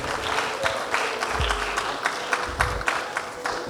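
A sustained round of audience clapping from a room full of people at a debate championship awards ceremony, even and continuous, with faint low rumbles underneath.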